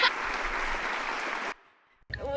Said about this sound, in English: I'm ready to just like applaud you right now